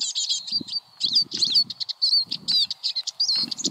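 A flock of siskins outdoors on a wild camp hillside, giving bright, rapid chirps and twittering calls, some played from a phone app, close and fairly loud, with soft wing flutters and rustles underneath.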